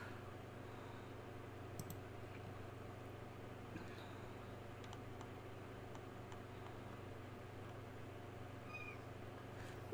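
A cat meows faintly a few times in a quiet room, with a low steady hum underneath and no talking.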